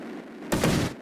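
An orbital bombing strike in Space Engineers lands as a single heavy explosion, a sudden loud blast that erupts midway after a quiet moment and rumbles for a fraction of a second before easing.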